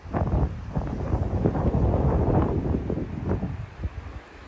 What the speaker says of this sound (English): here's where the wind kicked in.